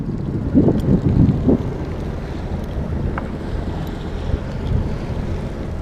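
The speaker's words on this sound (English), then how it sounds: "we're just ticking along at 5 knots on the motor" A sailboat motors along at sea near 5 knots at sunrise, giving a steady low engine drone under wind buffeting and sloshing water, with a few louder bumps of waves early on.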